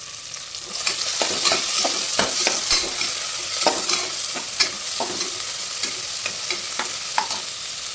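Steady sizzling of frying with scraping spoon strokes against a pan as the tomatoes are stirred, continuous and close, no talking.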